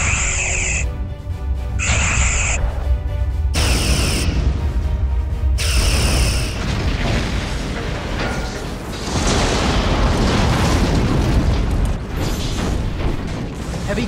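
Sci-fi starship phaser fire and explosions hitting the hull, a loud sustained barrage of booming blasts and bursts with a few sharp interruptions, filling the whole stretch without speech.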